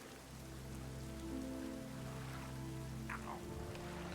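Rain pours steadily in The Witcher 3, a dense continuous hiss of drops at even loudness over low game ambience, with a couple of faint chirping accents late on and no voices.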